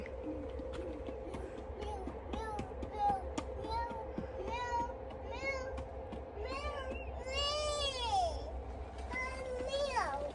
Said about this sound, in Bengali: ক্যাট এমনি হাঁটছে